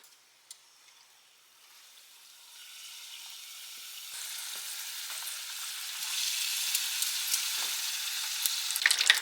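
Egg rolls fry in hot oil, a soft bubbling sizzle that builds gradually from quiet to a fuller, steady crackle with a few small pops, close by and without any talking.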